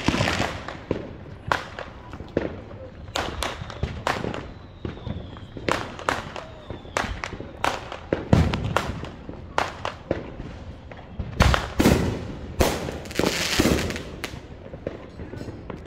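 Fourth of July fireworks and firecrackers explode loudly in an irregular series of sharp bangs, some near and some farther off, with a person talking among the blasts.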